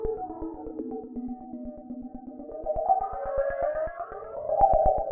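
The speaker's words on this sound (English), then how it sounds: "makes it more of a low pass noise." Low-pass filtered electronic music for a Siren Head song, muffled and dull, with a gliding tone over steady rhythmic ticks that swell slightly louder toward the end.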